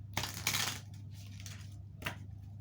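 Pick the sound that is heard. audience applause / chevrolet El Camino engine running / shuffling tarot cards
shuffling tarot cards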